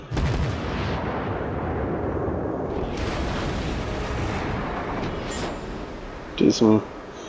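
Heavy battleship main-gun salvos in a World of Warships naval battle aboard the IJN Fuso, a sustained roaring rumble of overlapping booms with a couple of sharp later blasts.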